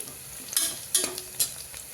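Onions sauté in a pan with raw masala, giving a soft background sizzle and three distinct scraping stirs spaced roughly evenly, close by and without speech.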